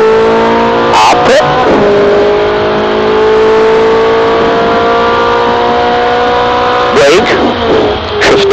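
A Ferrari 458 Italia on the Red Bull Ring, its engine heard loud and close from inside the car, a strong sustained roar with rising tones through the gears and short breaks at the shifts, as a person speaks over it.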